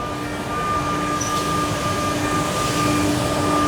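A furniture production machine runs at a steady, loud mechanical drone with constant tonal hums and a broadband whir, unchanging throughout with no voices.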